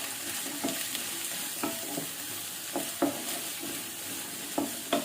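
Shallots and onions sauté with spices in a pan for ghee rice and chicken roast, giving a steady, close sizzle broken by repeated scraping stirs at roughly one-second intervals.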